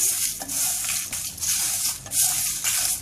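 Whole spices with torn bay leaves dry-roast in a pan for a homemade masala mix, heard as loud, close, continuous scraping and rustling stirring in quick repeated strokes.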